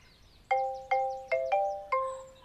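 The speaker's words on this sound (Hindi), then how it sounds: "क्या बज रहा है फोन?" A phone ringtone chimes five quick bright electronic notes, each ringing out briefly, close and clear with no talking.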